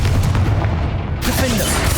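The Confringo fire spell in the Hogwarts Legacy video game lands with a heavy, booming blast, followed by a rumbling crackle that fades over about two seconds.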